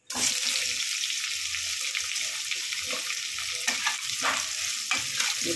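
Food frying in a pan at home, a loud steady sizzle with repeated scraping and stirring strokes of a utensil, no speech.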